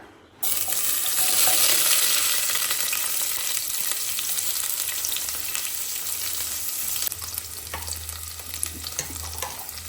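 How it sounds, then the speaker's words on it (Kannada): Tempering spices sizzle loudly in hot oil inside a dry pressure cooker, a steady crackling fry that starts abruptly and continues throughout without talk. "ಸ್ವಲ್ಪ ಒಗ್ಗರಣೆ ಮಾಡ್ಕೊಳ್ಳೋಣ"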